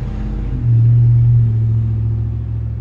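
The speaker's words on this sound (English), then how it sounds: "I'm not sure how the sound is going to be from this area with the traffic going by and everything." Road traffic passing near a snowy spot, a steady low engine rumble that swells as a vehicle goes by and then eases back to a continuous hum.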